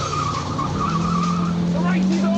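Race cars in a Driven 4Car+ racing game start off with loud engine whine and tire squeal, a continuous close roar with rising pitch, and a voice speaking over it.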